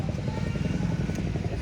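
A Hero Splendor motorcycle engine drones close by with a steady low, pulsing rumble as the bike arrives.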